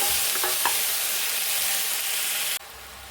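Fresh green peas and vegetables frying in oil in a pan for millet bisibele bath, with a steady close sizzle, a few scraping stirs early on, then the sizzle abruptly quietens near the end.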